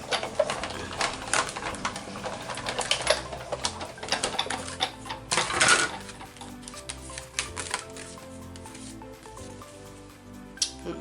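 A die-cutting and embossing machine cranking a plate sandwich through its rollers, giving a close, uneven run of mechanical clicks, ticks and grinding thumps with no talking.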